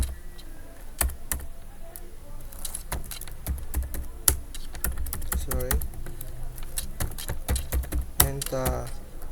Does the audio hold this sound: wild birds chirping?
no